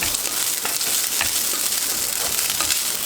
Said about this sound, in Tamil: ரைஸை நீங்கள் இருக்கிற ரைஸை அந்த கீ கூட போட்டுட்டு அந்த கீ கூட வச்சு நல்லா மிக்ஸ் பண்ணணும்